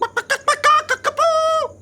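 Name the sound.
person imitating a Moroccan fire chicken call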